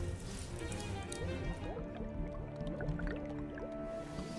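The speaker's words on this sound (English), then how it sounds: "Strange bubbling sound." A strange bubbling sound effect in a fantasy tabletop adventure set in a dragon's lair, with wet gurgling and drips over a steady layered background throughout.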